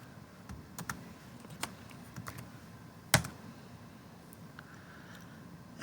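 A few keys tapped on a computer keyboard to enter a networking command, scattered quiet clicks with one louder keystroke near the middle, close and alone with no talking.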